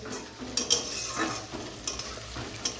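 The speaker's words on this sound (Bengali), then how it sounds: "পেঁয়াজের বেরেস্তা করবো তো, তার জন্য আগে আগে পেঁয়াজটা ভাজে চাপিয়ে দিয়েছি।" Onions frying in a pan for a crisp fried-onion garnish, a steady hiss with a few sharper sizzle bursts and faint stirring clinks, no talk.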